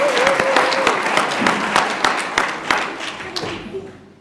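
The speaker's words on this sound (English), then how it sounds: "Please give yourselves a round of applause" People at a spiritual center event applaud themselves, scattered but lively clapping from a modest group with a voice over the start, thinning and fading out toward the end.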